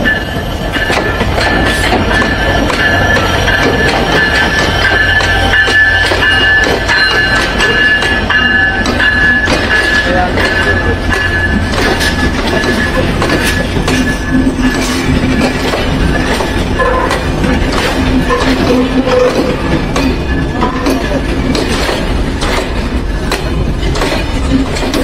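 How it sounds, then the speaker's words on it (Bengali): The Chilahati Express intercity train rolls into Natore station, loud and close, with steady wheel rumble, rhythmic clicking over rail joints and high squealing wheels throughout. "আন্তনগর চিলাহাটি এক্সপ্রেস প্রবেশ করছে বনলতা সেনের শহর নাটোর।"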